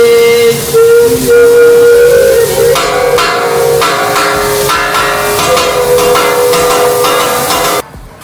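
A crowd of voices at an all-inclusive resort show in Playa Mujeres, Mexico imitates a train whistle with a sustained, loud, wavering hoot, followed by rhythmic chugging pulses that stop abruptly near the end.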